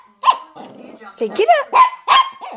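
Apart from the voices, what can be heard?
Chihuahua barking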